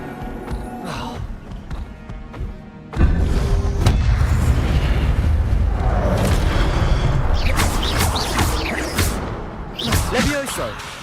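In the Hogwarts Legacy video game, casting the Incendio fire spell brings a sudden loud, booming fiery burst with a roaring rumble that stays heavy for several seconds. Crackling effects and a shouted voice come through over it.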